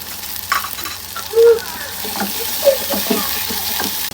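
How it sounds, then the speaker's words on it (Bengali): Ginger, garlic and cumin paste frying with onion paste in a pan for a dried ribbonfish and egg curry, a steady close sizzle with a few stirring knocks and scrapes, no talking. "পেঁয়াজ বাটা এখন দিয়ে দিব আদা রসুন জিরা বাটা"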